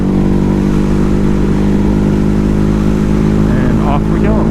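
Ducati Hypermotard 950 motorcycle pulling hard in fourth gear after an upshift, a loud steady engine drone with rising pitch close to the rider and no voices.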